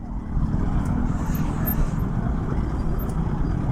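Dense highway traffic jam near a bridge outside Kolhapur, with a continuous loud low rumble of cars, buses and trucks and an occasional faint hiss of air brakes, heard from among the stopped vehicles.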